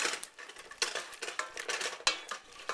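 A spoon stirring a spinach side dish in a pan, with soft scraping and clinking against the cookware in irregular strokes, fairly quiet and close, with no talking.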